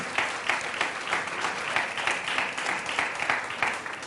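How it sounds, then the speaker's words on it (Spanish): Church congregation clapping during a Spanish-language sermon, a dense, steady applause with a slight rhythmic pulse, heard at moderate distance and continuing throughout. "Dele un aplauso al Señor, porque Él se lo merece."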